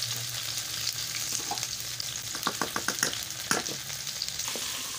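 Ginger-garlic paste sizzling in hot ghee, a soft steady frying hiss with a cluster of sharp spattering pops partway through.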